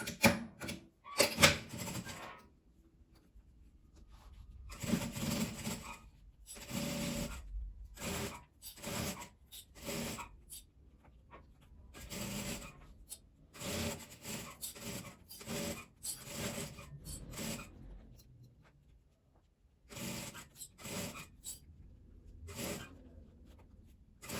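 Sewing machine stitching fabric for a vertical school pencil case, heard as bursts of rapid mechanical stitching separated by pauses and handling rustles, close and fairly loud.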